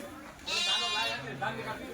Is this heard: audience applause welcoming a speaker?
no